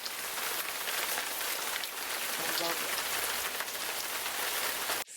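Steady summer rain falls outside onto a garden, a dense even patter close by throughout, with a brief spoken remark partway through.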